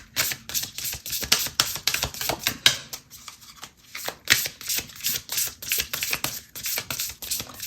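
Tarot cards are handled and drawn from a deck, giving close, crisp riffling and flicking sounds in quick repeated bursts, with no speech.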